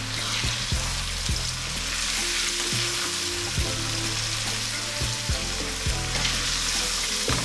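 Blended ginger and garlic sizzle loudly in hot oil for a Ghanaian cabbage stew, a steady crackling fry broken by regular scraping stirs of a spoon against the pot.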